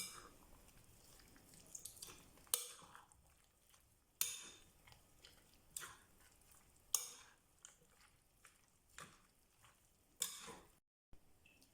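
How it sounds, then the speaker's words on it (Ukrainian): Pie batter with finely chopped onion and fresh dill being stirred in a bowl, giving soft wet scraping swirls broken by several sharper knocks of the utensil against the bowl, close and fairly quiet with no talking. "Перемішуємо все до однорідності."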